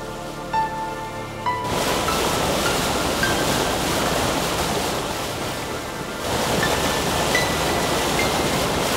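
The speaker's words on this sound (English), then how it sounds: "Soon, a 30-meter-high jet of water shoots up into the sky" The Strokkur geyser in Iceland erupts: a sudden, powerful rush of gushing boiling water and hissing steam bursts in, roaring steadily as a 30-meter jet shoots up, then surges again even louder.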